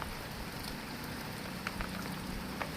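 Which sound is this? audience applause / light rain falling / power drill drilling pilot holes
light rain falling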